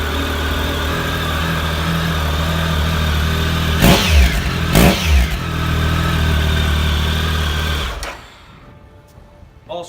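A 2015 Triumph Tiger 1050 Sport ABS motorcycle idles loudly close by, revs sharply twice, then cuts off, leaving near silence.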